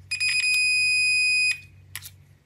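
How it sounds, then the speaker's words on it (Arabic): A digital multimeter's continuity beep sounds as the probes touch a component under test: one steady, high electronic tone lasting over a second, then brief scratchy probe clicks over faint background hum. "هنا أعطانا صوت جرس"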